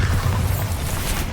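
Spell explosion from the Bombarda curse during combat in Hogwarts Legacy, a loud, dense boom with a rumbling low end that stays sustained and heavy across the short stretch.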